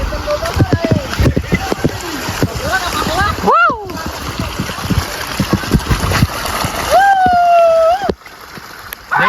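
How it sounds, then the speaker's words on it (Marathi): A waterfall pours along the Kondhana caves trekking trail, a continuous splashing rush of water close by, with people talking loudly over it and a couple of brief whistles. "बघा कसा धबधबा वाहतोय"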